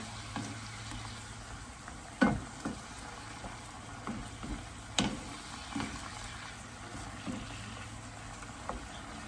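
Pork with broccoli simmers in sweet soy sauce in a pan, giving a steady low bubbling sizzle with occasional sharp clinks and stirring scrapes, close and moderately quiet, with no talking.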